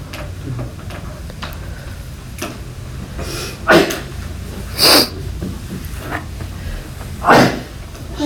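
A single brief sneeze bursts out in a classroom during a geometry lesson, a sharp sudden puff amid quiet room noise, scattered clicks and soft thuds.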